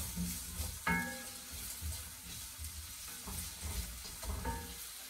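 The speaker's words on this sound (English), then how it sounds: "Then give it another stir." Aubergine, chickpeas and onions for a bhuna sizzle steadily in a pan, broken by a few scraping stirs of a utensil against the metal.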